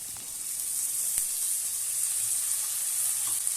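Peas and potato pieces cooking in oil in a frying pan, giving a steady, bright sizzle throughout with a few faint scrapes of stirring.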